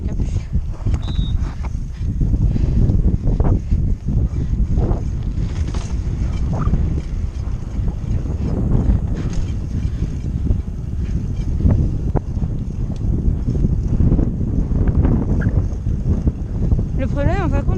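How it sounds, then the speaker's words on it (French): Strong wind blasts across the microphone during an outdoor motorbike ride, a dense, continuous low roar with buffeting bursts throughout, and someone speaks over it. "Il y a beaucoup de vent"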